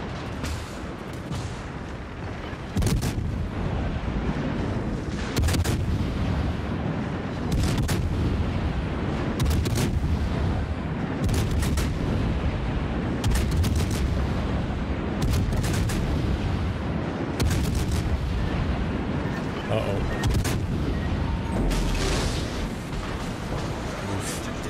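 Naval artillery fire in World of Warships: a long stretch of repeated heavy booming salvos at irregular intervals over a constant loud rumbling battle bed, with no voices.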